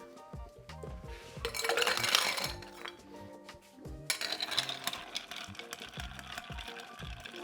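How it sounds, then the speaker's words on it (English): A cocktail stirred with ice in a mixing glass, bright clinks and scraping rattles coming in two bursts, close and fairly soft, with no talking. "Set that aside, and I'll stir down the drink."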